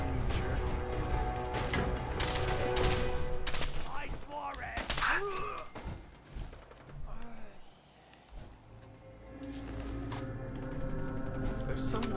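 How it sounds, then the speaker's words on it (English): Gunfire crackles in Fallout 4, bursts of rapid shots and clattering impacts, fairly loud at first, then fading into quieter sporadic pops and ambient game sounds. "I can hear gunfire."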